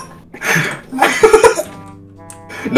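A person coughs close to the mic in a few harsh bursts, broken by short voiced sounds and throat noise.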